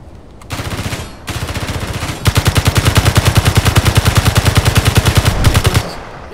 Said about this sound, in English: Go, Christopher, I'll let you finish it with your gun